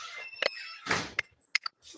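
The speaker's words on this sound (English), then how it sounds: "He's coming through the door now." A door opens as someone arrives home, giving a few short squeaks and dull thunks spread over two seconds, fairly close and moderately loud, with quiet pauses between the bursts.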